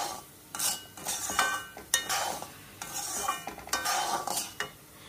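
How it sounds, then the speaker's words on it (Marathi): Raisins and dry fruits roasting in a pan for a semolina sheera offering, with a spoon scraping and stirring in irregular bursts over a soft background sizzle, close up and without talk. "आता छानपैकी भाजून घ्यायचं खरपूस।"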